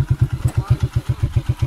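A motorcycle with a punctured tyre runs nearby on a riverside road in Sindh, its engine pulsing in a steady, rapid low thumping rhythm, loud and close, with no talk over it.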